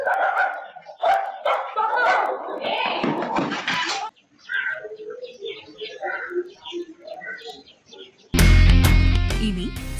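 Street dogs bark and yelp in CCTV footage of a dog attack, with sharp barks mixed into a news narrator's voice, followed by a burst of loud music at the end.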